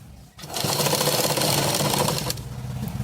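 A sewing machine with a stitching fault that keeps breaking the thread starts up and runs in a fast, steady mechanical whir, close by, then slows near the end.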